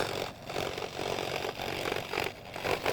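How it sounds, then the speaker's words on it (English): A Wen scroll saw cuts a circle out of a wooden fence picket, giving a steady, continuous buzzing rasp with slight rhythmic swells as the blade works through the board. The sound is close and fills the whole stretch without pause. "Then I break out the other wen and scroll saw the circle out"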